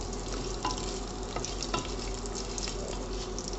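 Cinnamon, cloves and other whole spices roast in a pan for biryani with a steady, fairly quiet frying hiss and a few small crackles and stirring clicks, and no voices.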